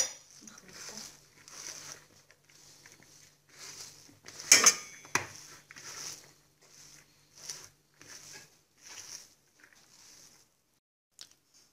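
A utensil stirring a pastilla filling of Chinese vermicelli and chopped mushrooms in a dish, giving soft rhythmic scrapes and clinks at a steady pace, with one louder clatter near the middle, close and alone.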